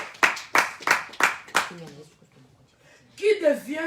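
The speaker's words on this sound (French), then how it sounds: "Acclamons pour la parole de Dieu." A church congregation claps in unison, five sharp, evenly spaced claps close together, followed by quiet and then someone speaking.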